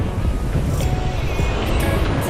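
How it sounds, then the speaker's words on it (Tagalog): Steady, roaring wind noise buffets the microphone while cycling on a road trip, with low rumbling gusts filling the whole clip and no voices. "Grabe, lakas ng hangin."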